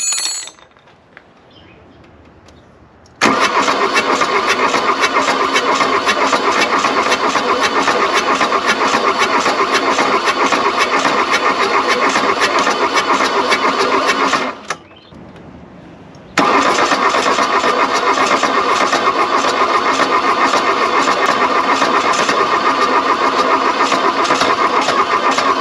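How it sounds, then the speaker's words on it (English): A VW Golf I diesel engine cranks for two long stretches of loud, steady starter whirring with uneven cylinder firing mixed in, separated by a short pause and preceded by a quiet lead-in. "Hear that? That was a cylinder kicking off."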